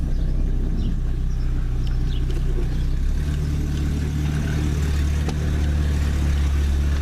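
A Chrysler LeBaron with a newly replaced steering rack drives slowly nearby, its engine giving a steady low rumble with faint clatter and tire noise, continuous and fairly loud.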